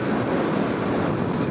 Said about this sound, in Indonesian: Ini anginnya lagi kenceng banget coy